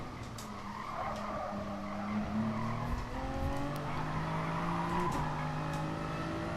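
Race car tires skid and squeal under hard braking in GT Sport at the Nordschleife, a sustained whining screech over the engine's drone, rising and falling as the car slows into a corner.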